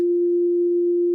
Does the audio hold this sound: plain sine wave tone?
yes